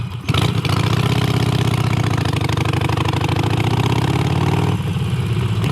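A Harley-Davidson Iron 883 motorcycle engine idles close by, a steady, loud low throb with a lumpy pulsing rhythm that holds for about five seconds before easing slightly near the end.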